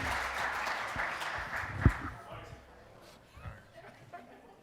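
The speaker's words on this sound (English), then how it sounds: "you need to give him some applause because he's kind of anxious" Audience applause at a men's chorus Christmas concert, a broad wash of clapping that swells at the start and fades into scattered claps with light chuckles and crowd chatter.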